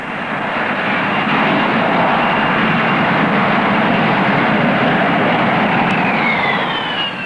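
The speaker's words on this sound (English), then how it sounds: "To initiate the vertical landing, the pilot reduces the power slightly and controls the rate of descent with the throttle." A Harrier jump jet's engine roars steadily at close range throughout a vertical landing, a dense, continuous jet rumble and hiss with no break in loudness and a faint whine rising near the end.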